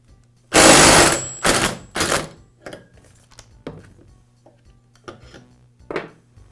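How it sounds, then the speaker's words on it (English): Impact wrench removing the clutch from a Poulan chainsaw with a clutch removal tool: a loud burst of hammering followed by two shorter bursts, then scattered metallic clinks and handling knocks. "use my impact to remove it in a clockwise rotation"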